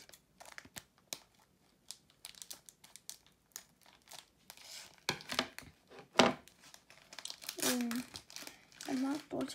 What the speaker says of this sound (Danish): Jeg er meget dårlig til at åbne Pokémon-pakker